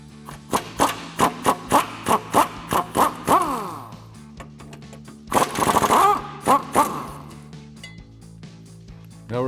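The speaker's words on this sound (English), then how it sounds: "we're going to remove this 21mm bolt here because we're going to end up lowering our rear subframe" A power tool, likely an impact wrench, works a 21mm bolt on the rear subframe of a 2015-2023 Mustang, giving a series of loud, rapid ratcheting bursts, then a longer whirring run and a few more short bursts.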